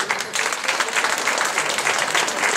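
Audience applause for performers at a French beauty and diversity show, loud, dense and continuous from start to finish.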